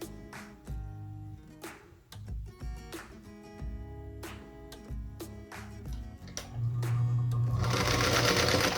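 A domestic sewing machine stitches a light pink quilt block strip to a pieced mosaic star unit, running in several short bursts with pauses, then a longer, louder steady run near the end, close and alone.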